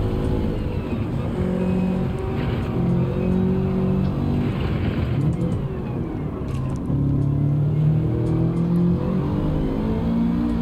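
Racing car engines in the video game Gran Turismo 7, a 700PP championship race with a Porsche close behind, drone loudly and steadily throughout, with layered engine tones shifting pitch through gear changes and no speech.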